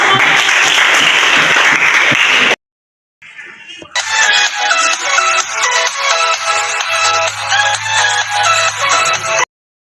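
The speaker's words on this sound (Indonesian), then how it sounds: "Tepuk tangan dulu." An audience at a question-and-answer session bursts into loud, dense applause that stops abruptly after a couple of seconds. A brief silence follows, then steady tonal music plays alone.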